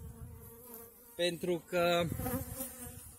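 Honeybees in a barrel hive, a steady close buzzing hum with a few louder pulsing tones, heard under someone speaking briefly.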